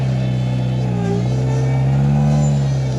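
Rock crawler engine droning and revving as it climbs a steep, high-traction rock hill, a loud, steady low rumble whose pitch rises and falls slightly throughout.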